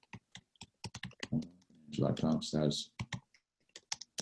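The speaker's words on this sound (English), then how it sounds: "I'm gonna type that in the chat." Fingers type on a computer keyboard in rapid bursts of crisp clicks, with a brief stretch of nearby speech partway through before the tapping resumes.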